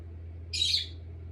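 Pet birds chirp in a room, a single short bright burst of high calls lasting under a second over a low steady hum.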